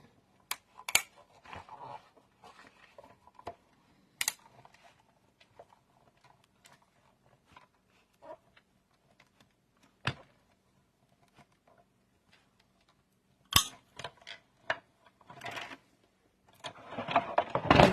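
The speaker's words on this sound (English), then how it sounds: "put the second cutting plate on the top, and we're going to send it through" Cutting plates fed through a die-cutting machine to make a Halloween treat box, sparse close clicks, taps and plastic knocks with quiet gaps, ending in a louder grinding rattle.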